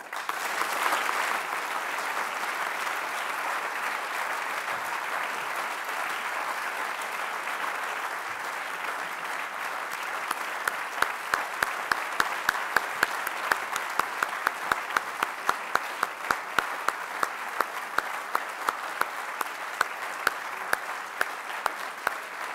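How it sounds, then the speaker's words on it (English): An audience at a talk on Belarus's prisoners of conscience applauds in sustained, moderately loud clapping that carries on for over twenty seconds, with sharper individual claps standing out later. "You heard the applause"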